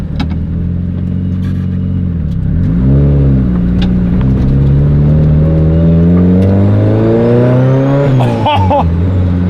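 A car engine revs steadily upward from idle, its pitch climbing for several seconds before a sharp blip near the end, loud and close with turbo whine.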